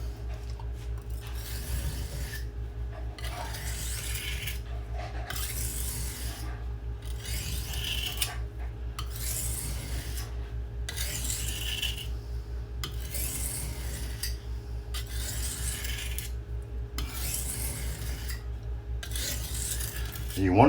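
A knife blade sharpened on an oiled sharpening stone, working out a small nick, with about a dozen regular back-and-forth grinding strokes close by, each a gritty rasp separated by brief pauses, over a faint steady hum.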